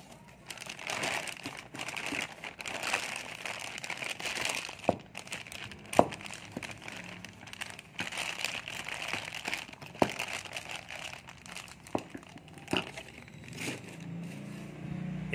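Plastic wrapping around a Thailand-made aftermarket carburetor for a Kijang 7K 1800cc engine crinkles and crackles close up, with irregular sharp rustles and taps at a quiet level.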